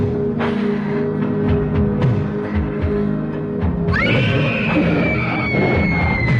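A woman's scream from the 1980s horror film Trick or Treat, a loud, sustained high shriek that cuts in partway through over dark, rumbling music and effects.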